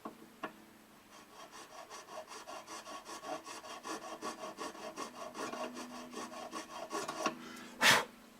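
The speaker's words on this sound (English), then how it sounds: "filing at the same angle as the headstock" A file rasps back and forth across the nut slot of a Martin D28 acoustic guitar in quick, close rhythmic strokes, then stops near the end with a brief louder knock.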